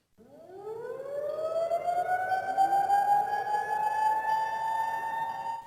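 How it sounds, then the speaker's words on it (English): A civil defense siren winds up from a low pitch and rises into a long, steady wail, loud and sustained with no voices over it. "and the siren went off."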